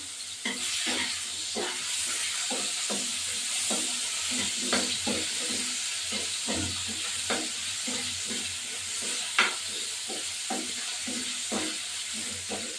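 Vegetarian cabbage curry sizzles in a pan while a spatula scrapes and stirs it in a quick, regular rhythm, with close steady frying hiss underneath.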